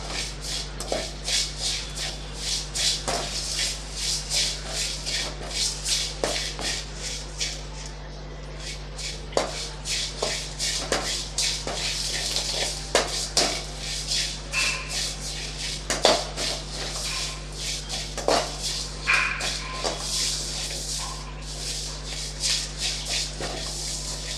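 Curry leaves stir-frying with rock salt in a pan for curry leaf rice, giving a steady close crackle and rustle with scattered sharp clicks of stirring against the pan over a low hum.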